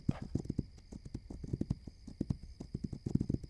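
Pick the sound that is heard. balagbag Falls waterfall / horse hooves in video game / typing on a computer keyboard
horse hooves in video game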